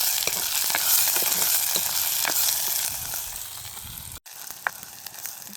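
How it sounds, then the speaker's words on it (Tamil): Onions and green chillies fry in a pan as they are stirred. A dense, close sizzle carries scattered scraping taps and eases slightly after a brief cut near the end. "கிண்டி விடுறோம். நல்லா வதங்கட்டும்."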